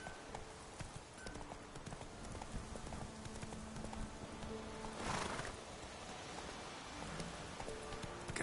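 Roach, a horse in The Witcher 3 video game, trots through the rain with faint, rhythmic hoof clops over a constant patter of rainfall, quiet and distant, briefly broken by a snort or whinny.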